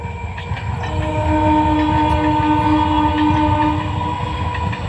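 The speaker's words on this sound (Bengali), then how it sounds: "সেই দেখো ট্রেনটা যাচ্ছে" Passing train heard close and loud, a steady rumbling roll of wagons with a sustained horn tone held over the clatter throughout, without any talk.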